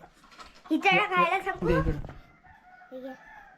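A village chicken or rooster gives a loud, close call with a few sharp clucks, followed by softer fainter calls near the end, in a quiet morning setting.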